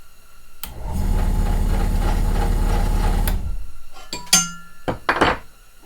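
A Central Machinery 5-speed benchtop drill press motor hums loudly and steadily for a couple of seconds while drilling metal, then winds down, followed by a few sharp metallic clinks.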